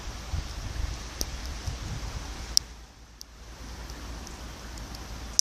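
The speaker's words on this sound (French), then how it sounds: "Ça pleut." Steady rain falling at a marina with pontoons in a harbour basin, a soft continuous hiss with low rumble, a few sharp drip clicks standing out, and a brief lull near the middle.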